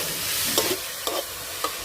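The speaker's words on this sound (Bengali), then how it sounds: "কুড়ে রাখা নারকেলগুলোকে এবার কড়াইতে দিয়ে দেব।" Grated coconut and jaggery fry in a kadai as a patishapta pithe filling. A constant soft sizzle sits under three distinct scraping stir strokes, close up, with no talking.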